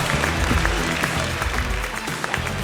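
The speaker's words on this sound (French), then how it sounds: "On peut l'applaudir à nouveau." Audience applause at a business awards ceremony honouring a prize winner, a dense, steady wash of clapping that fills the short moment, with faint low voices mixed underneath.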